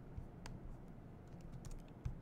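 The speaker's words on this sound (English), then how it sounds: "if I'm typing like void blah" Keys clatter in a short burst of typing on a computer keyboard while writing code in a development environment, quiet, close and alone with no voices.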